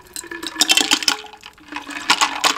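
Liquid pouring for a shaken cocktail at a campsite caravan, splashing and gurgling in uneven bursts close to the microphone, briefly easing midway before picking up again.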